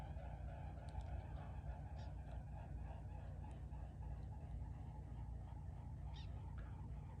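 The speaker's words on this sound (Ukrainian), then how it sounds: "Хлопці, дивіться. Лебеді полетіли." Faint honking calls from a flock of swans flying over the Dnieper river at an evening fishing spot, scattered and distant over a steady low background rumble.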